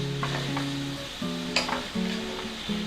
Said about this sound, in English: I'm actually listening to the sizzle.